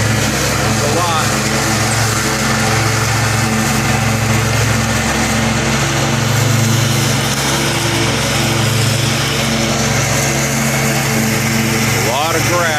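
A lawn mower run by a city crew cuts seven-foot-tall grass in East Dayton, its engine droning steadily and loud throughout the whole stretch, with a voice speaking over it.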